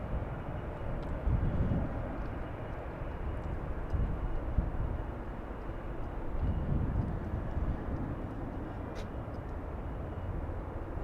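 An airliner departs LAX, its engine roar a broad low rumble that swells and eases from a distance, steady and fairly faint, with no talk.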